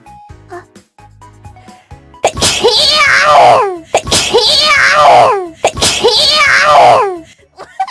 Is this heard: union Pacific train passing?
no